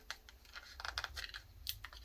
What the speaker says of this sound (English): So I'm going to use my straight scissors first.